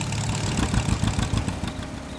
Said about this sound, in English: Oh, there's just some loud mufflers.